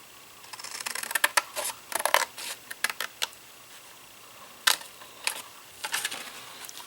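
Scissors snip through paper for an origami bow in a series of short, crisp cuts, irregular clusters of sharp clicks and rustles with pauses between, close and fairly quiet with no talking.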